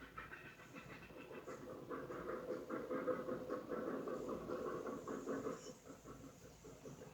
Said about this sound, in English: Watching the train climb uphill near Coxo